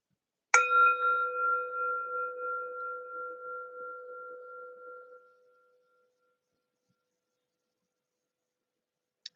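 A meditation bell struck once before a bow, one clear ring that hangs and slowly fades over about five seconds into silence, with a faint tap near the end.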